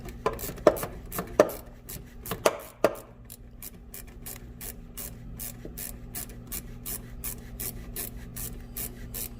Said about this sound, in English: small ratchet with an 8 because that is the size that my hose clamps are. Start undoing these.